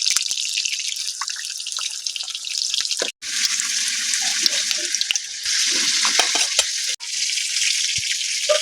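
Pumpkin flower fritters coated in gram flour batter with salt and turmeric frying in hot oil, a loud continuous crackling sizzle close by, with brief dips as pieces go in.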